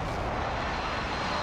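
Airstrike aircraft flying over in a video game shooter, a steady broadband roar of engine rumble that stays loud and constant throughout with no talking.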